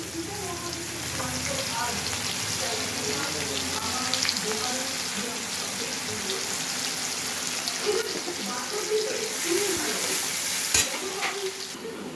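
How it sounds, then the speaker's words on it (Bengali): Chopped onions fry in oil left from frying fish, with sugar, whole cardamom and a bay leaf, giving a steady close sizzle with scattered crackles and stirring throughout. "পেঁয়াজটা লাল করে ভাজা হয়ে গেছে।"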